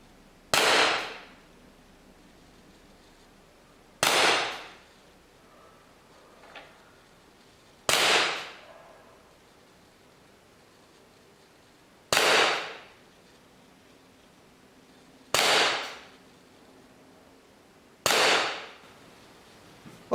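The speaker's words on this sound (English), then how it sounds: "I'll try 6 shots at 6 yards from a semi-rested position." Six shots from an ASG CZ P-09 Duty airsoft pistol fired at 6 yards, evenly spaced sharp cracks a few seconds apart, each with a short decaying tail, against a quiet background.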